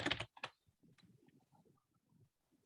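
Computer keyboard typing, a burst of loud clicks at the start followed by a quieter, irregular run of soft keystrokes, close and alone.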